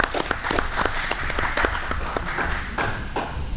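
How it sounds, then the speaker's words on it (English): An audience at a university football press conference luncheon applauds, with sharp individual claps standing out over a steady wash of clapping throughout. "let's give Mr. Tony Dowell a round of applause"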